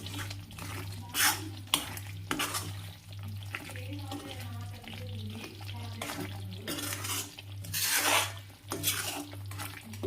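Fried prawns are stirred into a spicy prawn pickle mixture in a pot, with repeated spoon scrapes and metallic clinks over a soft sizzle and a low steady electrical hum.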